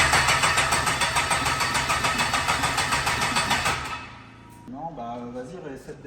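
A GM LS3 V8 cranks and fires with a fast pulsing rhythm for several seconds, then cuts out abruptly, leaving a quiet tail where people speak in French.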